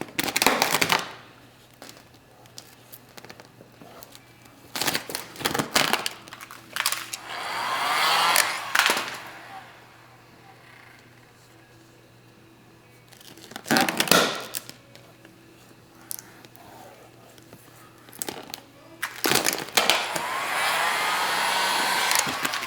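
A heat gun warms Tinybot vinyl wrap on a car's front bumper, blowing in several loud airy bursts separated by quieter pauses, close by and without talk.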